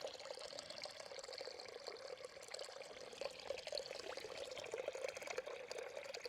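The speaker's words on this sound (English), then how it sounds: "We're at another faucet. I'm gonna let this one run for a little bit." Water running steadily from an outdoor faucet spigot, a continuous splashing pour with a bright hiss that never breaks.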